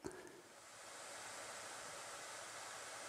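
ASUS Zephyrus G15 gaming laptop cooling fan at about 2,700 RPM, a steady soft broadband whoosh heard close and alone after a brief click at the start.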